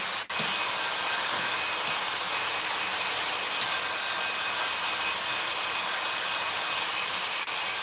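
A heat gun blows a steady, loud airy roar while heating window tint film on the rear glass of an eighth-generation 2013–2016 Chevy Malibu, running continuously after a brief click at the start.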